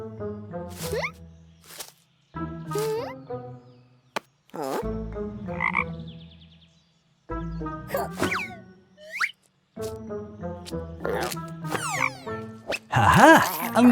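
A cartoon frog croaks in loud, separate bursts between pauses, mixed with playful music stings, springy effects and a few plops, with no speech over it.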